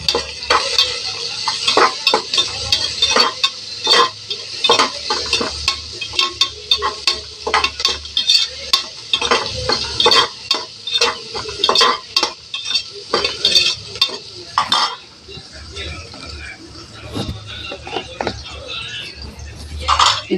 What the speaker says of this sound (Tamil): இது இப்போ நல்லா வதக்கிக்கலாம்.